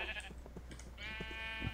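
Minecraft sheep bleating, two wavering nasal baa calls close by, the second longer and louder, over a low steady background hum.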